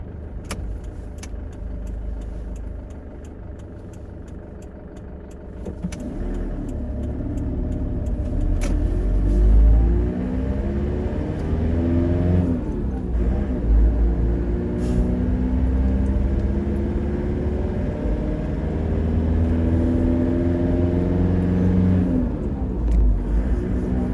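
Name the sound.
car driving on the road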